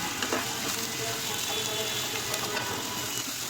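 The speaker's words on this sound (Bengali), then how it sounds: "তেল দিয়ে পেঁয়াজ কুচি দিচ্ছি পেঁয়াজ কুচিটা নরম হওয়ার জন্য একটু বেজে নিব" Chopped onions frying in mustard oil in a pan, a steady close sizzle and crackle with no pauses.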